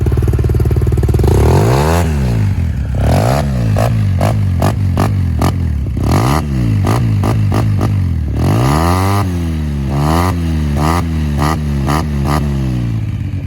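A 2016 Yamaha TMAX 530 scooter engine runs close by, loud and steady, with repeated quick throttle blips rising and falling in pitch, a rough clattering idle between revs and no talking.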